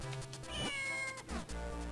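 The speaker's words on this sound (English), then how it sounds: "here's the cat. Let's see if it does anything." A cat in the video game Zelda: Minish Cap meows in a short series of bright, electronic-sounding mews over background game music, fairly loud and close.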